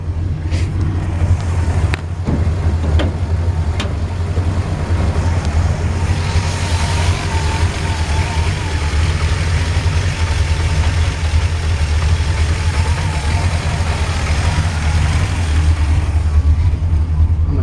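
A 1969 Chevrolet Camaro X11 idles close by with a loud, steady, deep rumble and a rough exhaust note that holds without letup, broken only by a few faint clicks.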